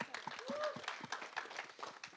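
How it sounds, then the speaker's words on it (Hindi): Audience at a film trailer launch for a Punjabi movie gives a round of scattered applause, fairly quiet and uneven, with individual claps audible and some voices mixed in. "एक बार इनके लिए जोरदार तालियां हो जाए।"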